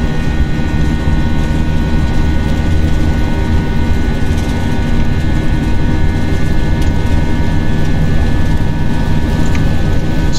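Airbus A320 engines spooling at takeoff thrust in a flight simulator, a loud, steady jet roar with low rumble and high whine holding constant throughout, no talking.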